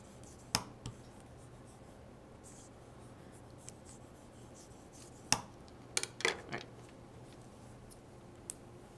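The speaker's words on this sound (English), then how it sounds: "you're gonna rub with the backs of scissors, the handles" Scissor handles rub over paper held firmly to transfer an image, giving a faint, soft scratchy scraping with a few sharper taps and rustles scattered through a quiet room.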